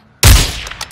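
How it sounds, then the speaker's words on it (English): Sudden burst of Call of Duty gunfire, a loud close volley that hits hard and then trails off into a rattling tail with a few smaller cracks. "You're getting shot at now"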